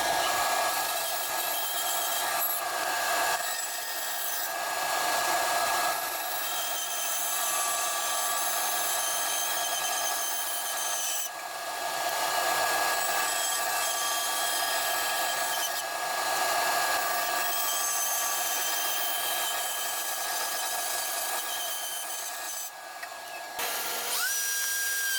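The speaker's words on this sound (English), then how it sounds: "once this is done and cut out on the bandsaw, I'll give it a sanding" A high, whining electric sander drone runs continuously on a wooden deer-head plaque, with brief dips and pauses, loud and close.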